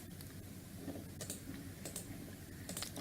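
Soft typing on a computer keyboard: light, uneven key clicks tap along quietly over a low room hiss, with no talking.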